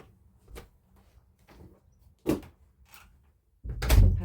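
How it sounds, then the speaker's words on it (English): An indoor door to a balcony is pushed shut, a few soft knocks and shuffles leading to a firmer thud and a louder closing bump at the end, close by in a quiet room. "I'm just going to close the door so we can't hear her."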